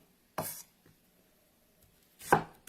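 Two separate knife chops strike onion on a cutting board, close and crisp, with a long quiet pause between them.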